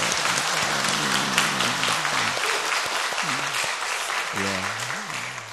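Loud, sustained applause from a church congregation fills the room, with voices calling out and talking underneath the clapping as it slowly tapers.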